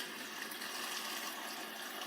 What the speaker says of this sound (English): now as I put in the water